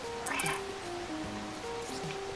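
A cat in the video game Stray meows and caterwauls in a string of drawn-out, wavering cries, fairly close and clear over a quiet background.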